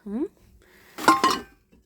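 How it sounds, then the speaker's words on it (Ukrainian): A metal pan clanks and rattles briefly as it is handled, with a short burst of speech just before. "Пательня, дивіться, яка мощна."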